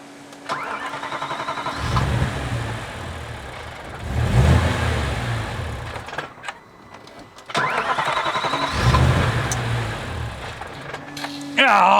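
An Audi RS4 with its air mass meter disconnected cranks and fires up, revving loudly and settling, then is shut off briefly and restarted with another rising roar; close and loud, with no talk over it.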